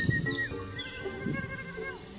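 Goats bleat in short, wavering calls near at hand, several overlapping cries over about two seconds with soft rustling beneath and no speech.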